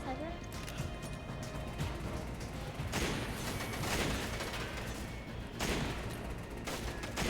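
Gunfire in Resident Evil 5 comes in rough bursts of shots and crashes over a busy, noisy background, with a player talking throughout.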